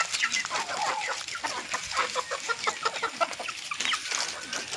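Domestic backyard hens, following their keeper in hope of feed, cluck in quick, overlapping bursts at close range, a busy chatter of short calls throughout.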